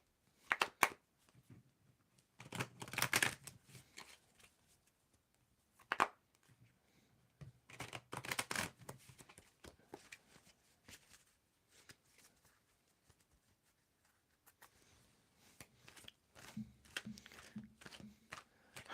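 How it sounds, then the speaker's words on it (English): Tarot cards shuffled by hand in quiet, scattered bursts of riffling and sliding, several short flurries separated by pauses, close but soft. "tell me when to stop shuffling"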